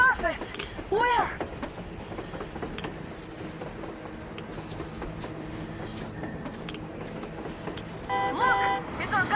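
Train in the video game Metro Exodus rumbling steadily across the surface, with mechanical clatter and rail noise throughout and voices talking over it at the start and near the end.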